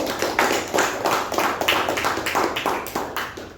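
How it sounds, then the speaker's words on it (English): Members of a Toastmasters club meeting applaud the session's role takers. Their clapping is loud and close, with a pulsing, almost rhythmic beat that swells and ebbs steadily throughout, with no speech over it. "let us give them another good round of applause"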